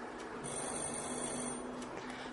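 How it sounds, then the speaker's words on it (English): An electric doorbell inside a vacuum chamber rings with a faint, continuous metallic buzz for about a second, set against steady background hiss. "For this we'll use electric doorbell. Now hear how it sounds."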